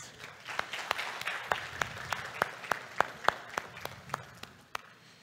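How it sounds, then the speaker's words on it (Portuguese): A small audience at a professional panel on human development applauds steadily, with distinct individual claps ringing out at a moderate distance over several seconds. "Uma salva de palmas."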